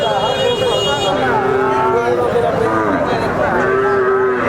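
Native heifer calves moo repeatedly at a cattle market, long drawn-out calls close by, over a steady crowd murmur and people talking in the background.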